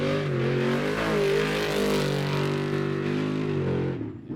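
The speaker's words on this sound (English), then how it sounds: "His brother, Bo Robinson, next to launch his trophy truck." A trophy truck launches off the start line of an off-road desert race in Pooncarie, its engine loud and close, roaring and climbing through revs for about four seconds before easing off at the end.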